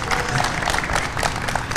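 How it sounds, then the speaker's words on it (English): An audience at a cooking demonstration event in Melbourne breaks into a brief burst of applause, a dense patter of many hands clapping together at moderate loudness. "Can we give a big applause? One more time, guys."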